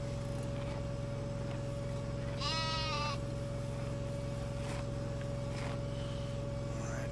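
A sheep bleats once, loud and close, in the Farming Simulator 2013 video game, a wavering cry of about a second heard over a steady engine hum and game background drone.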